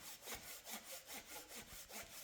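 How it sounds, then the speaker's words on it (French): A Japanese saw cuts through wood outdoors at a mountain lake campsite, with about seven quick, rhythmic push-pull strokes that sound close and steady, and no voices. "Viens essayer la scie japonaise."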